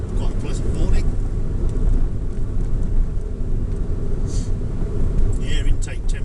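Honda Insight first-generation hybrid car on a relaxed morning commute, steady low road and engine rumble heard from inside the cabin, continuous and moderately loud with a few faint higher clicks.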